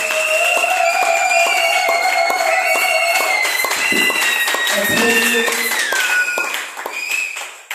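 A church congregation claps in a steady, rhythmic beat under loud singing and sustained musical tones, with the clapping close and continuous through most of the clip before fading at the end.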